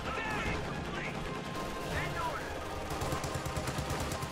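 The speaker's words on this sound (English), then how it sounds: "this machine gun on the right-hand flank did secure the fuel" Machine gun fire in the real-time strategy game Company of Heroes 2, rapid bursts of gunfire and battle noise running continuously beneath a commentator's voice.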